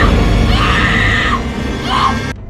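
A person screams loudly and close in two strained bursts, the second shorter, followed by an abrupt cut to silence.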